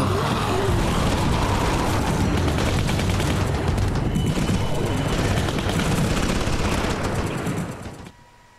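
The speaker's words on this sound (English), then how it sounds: "all that gunfire is just going to be attracting the shit out of all the walkers" Dense, continuous rapid gunfire and explosions in The Walking Dead video game roar loudly for about eight seconds, then cut off abruptly into near silence.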